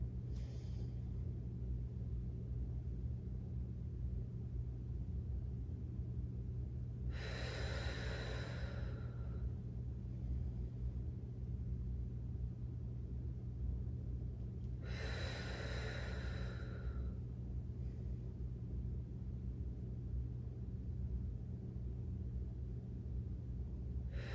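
Two long, breathy exhales during a stretching exercise, spaced several seconds apart, heard close over a steady low rumble with no talking.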